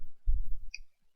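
A computer mouse gives a single brief click, close up, after a short dull thump, in otherwise quiet surroundings.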